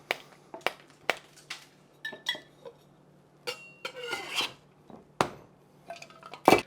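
A big ice cube being cracked for a cocktail, heard as a series of sharp, separate cracks and clinks close up, irregularly spaced and quiet between hits, with bright glassy ringing on a few strikes.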